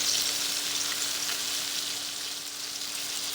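A very thick steak sears in a cast iron pan inside a van, giving off a steady, dense sizzle and crackle that stays fairly loud and even throughout, with no voices.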